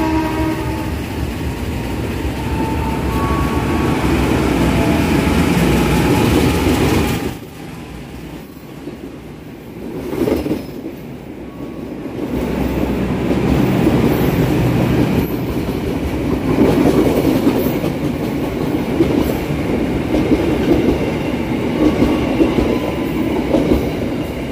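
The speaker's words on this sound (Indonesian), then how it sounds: "Sekarang ada kereta yang melintas langsung stasiun Cikampek di jalur 4." A train from the 1938 vintage set speeds straight through Cikampek station on track 4, its loud rushing roar and rattling wheels sustained close by, dipping briefly midway before surging again.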